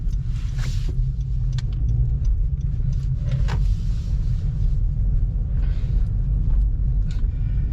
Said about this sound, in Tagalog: Tignan nyo naman kasi mga dumadaan bilis-bilis magpatakbo